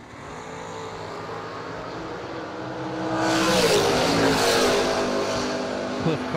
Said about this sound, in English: Miller prepared dragster.